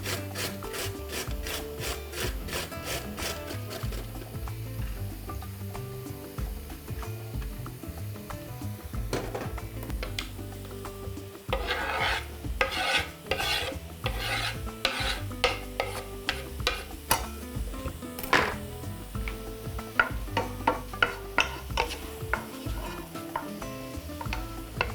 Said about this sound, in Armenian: Կքերեմ մեծ անցքերով։